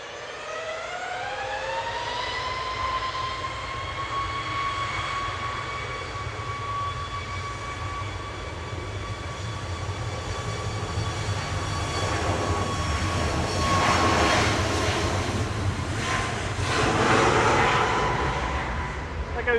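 Boeing 737 MAX 8 airliner departing Manchester Airport, a steady loud jet engine roar with a rising whine that swells toward the end, heard from a spotting position without speech.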